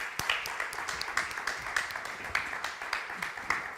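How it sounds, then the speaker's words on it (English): An audience at a Pride human rights conference in Hamburg applauds its panelists, a steady, moderately distant patter of many hands filling a room with individual claps popping out. "Let's give our panelists another round of applause"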